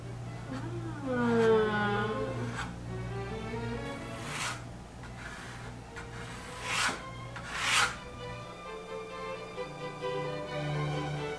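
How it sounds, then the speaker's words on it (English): A palette knife scrapes excess oil paint off a canvas in a few rasping strokes, some longer and smoother, with two sharper scrapes near the middle, fairly close. "scrape off all the excess paint. Just get in there and really scrape it off."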